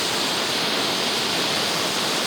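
A Jetboil gas camping stove burning outdoors, a loud, steady broadband roar of the flame that holds constant from start to end, close by with no talking.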